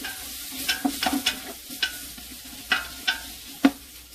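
Sausages fry in butter in a pan, a quiet sizzle under repeated clinking and tapping of a utensil against the pan in an irregular rhythm.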